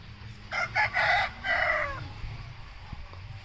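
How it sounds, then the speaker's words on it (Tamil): A rooster crows once, loud and close, the call rising and then trailing off over quiet outdoor background noise. "சேவல் ஒன்று வருது பாருங்கள்."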